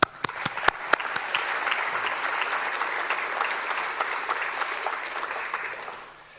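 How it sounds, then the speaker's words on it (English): An awards audience at the Northern Territory Australian of the Year ceremony claps for the nominees; a few sharp individual claps at first quickly swell into sustained, even applause that fades out at the end, with no voices over it. "Please join me in giving all the nominees a well-deserved round of applause"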